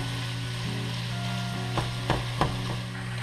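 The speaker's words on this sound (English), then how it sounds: "During this process I keep stirring and blending, stirring and blending." Vegetables seasoned with salt and pepper fry in a pan for lasagna, a constant close sizzle under a low hum, with three distinct stirring knocks and scrapes toward the end.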